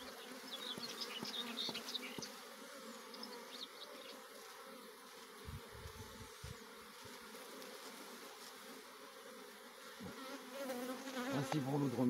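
Honeybees buzzing around an open hive during an apiary inspection make a dense, close drone with individual bees whining past, plus a few handling knocks.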